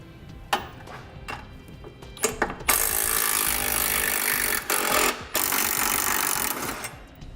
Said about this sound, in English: we'll remove our 2 18mm nuts on the outside edge of the frame